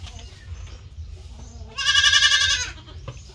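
A young goat lets out one loud, drawn-out bleat nearby, with quieter farmyard noise and faint bleats around it.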